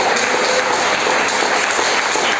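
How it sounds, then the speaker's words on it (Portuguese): Steady, dense clapping from a church congregation fills the whole stretch, loud and continuous with no voices standing out. "As palmas exaltam o nome do Senhor Jesus."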